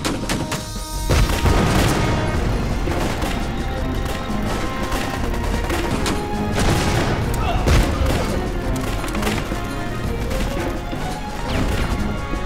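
Volley of gunfire and crashing explosions in a war film battle scene with Japanese soldiers, dense and loud throughout, continuous bursts and impacts layered with music and commotion.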